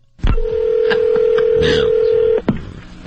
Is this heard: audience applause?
no